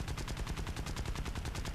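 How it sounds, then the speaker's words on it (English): Rapid, continuous machine gun fire from an A6M2 Zero fighter plane in the War Thunder video game, a dense, loud, evenly paced burst of shots with no pauses. "Out of cannon, so just shooting the machine gun."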